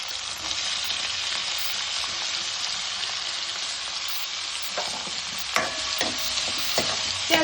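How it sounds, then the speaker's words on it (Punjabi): Onions frying in a pan with lightly browned roasted cumin, a steady loud sizzle throughout, with a few sharper stirring scrapes and crackles near the end, no voices. "ਜੀਰਾ ਆਪਣਾ ਹਲਕਾ ਜਿਹਾ ਬਰਾਊਨ ਹੋ ਗਿਆ ਹੁਣ ਆਪਾਂ ਇਹਦੇ ਵਿੱਚ ਐਡ ਕਰ ਦਿੰਨੇ ਆ ਪਿਆਜ਼"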